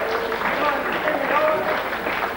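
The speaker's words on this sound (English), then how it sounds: "Give her a big hand." Audience applause greets a winning bid at a farm auction, a steady wash of clapping from a crowd that stays even in loudness for a couple of seconds, with a voice talking over it.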